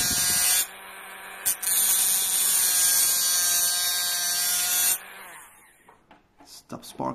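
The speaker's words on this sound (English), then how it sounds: "For a clean cut, you take your Dremel." Dremel rotary tool cutting on a homemade high-voltage capacitor charger, a loud, close, high whine that runs steadily for several seconds with a short break and then spins down, followed by some faint handling sounds.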